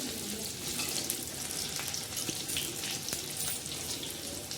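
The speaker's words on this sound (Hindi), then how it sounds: "तो यहाँ पे सब्ज़ी को छौंक दे रही हूँ" Spices crackle and sizzle in hot oil as a tempering is made for a fenugreek leaf and potato curry, a continuous close frying hiss with scattered pops and no talk.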